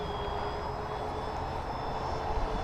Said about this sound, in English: I'm gonna do one fast pass here just for the heck of it. That's not full throttle, but wow, that flies fantastic.